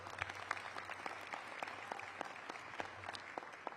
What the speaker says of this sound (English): Let's give Latrina a round of applause